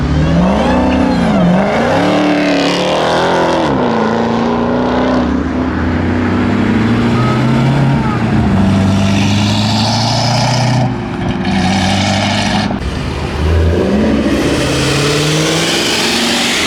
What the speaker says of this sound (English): We got some cool stuff about to roll out, like this Charger Hellcat